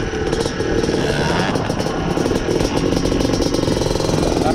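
Close, steady engine noise of a Yamaha Blaster 200cc quad with light revving, a continuous mid-pitched buzzing rumble that rises slightly partway through.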